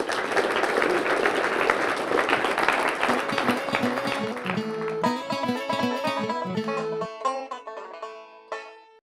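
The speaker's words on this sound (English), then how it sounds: "Let's give him a big round of applause" Audience applause on a horseshoeing show fades out over several seconds while a bright musical sting with clear sustained tones takes over and closes the moment.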